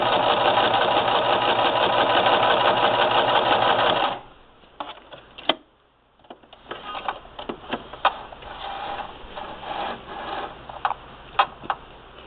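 A sewing machine stitching patchwork placemats runs loud and steady for a few seconds, then stops, followed by quieter rustling of fabric and clicking handling sounds.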